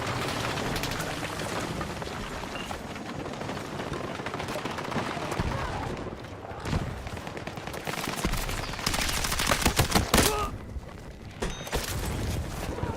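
Turret gun fire in Battlefield 6, rattling bursts amid steady battlefield noise, with a louder cluster of shots near the end and a voice talking over parts of it.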